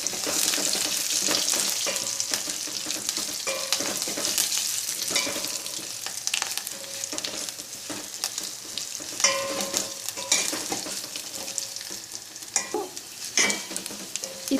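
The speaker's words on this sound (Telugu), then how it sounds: "ఈ విధంగా మనం గోల్డ్ కలర్ వచ్చే వరకు మనం వేపుకోవాలి" Tempering spices, garlic and curry leaves frying in oil for tomato dal give a steady close hiss with repeated clinks and scrapes of a spoon stirring the pan throughout, moderately loud with no talking.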